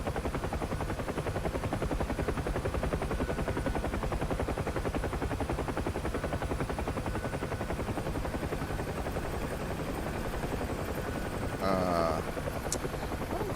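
A Chinook helicopter in the DCS World flight simulator thumps with a dense, steady rotor chop and engine whine that stays loud and constant throughout, with a brief metallic click near the end.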